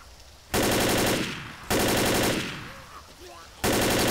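Automatic gunfire in the video game Left 4 Dead: three loud, rapid bursts of rattling shots separated by short pauses, each ending in a fading tail.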